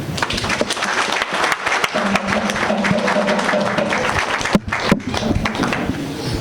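Applause from an audience at a Guinean community ceremony in Port-Gentil, honoring the installation of a new president: dense, steady clapping throughout, fairly close and loud, with a faint voice murmuring underneath.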